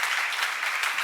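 Applause from a church congregation during a Romans seminar, a dense and steady patter of many hands that fills the whole short moment at moderate loudness, with no talking over it.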